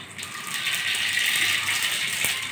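Black mustard seeds crackle and spit in a little hot oil in a wok, a dense steady hiss of sputtering close by with occasional sharper pops, no voices.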